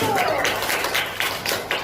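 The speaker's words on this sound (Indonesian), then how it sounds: "Kasih tepuk tangan dulu" A small classroom group claps for a team that has just presented, a few uneven near hand claps and taps in loose rhythm, with a voice speaking briefly at the start.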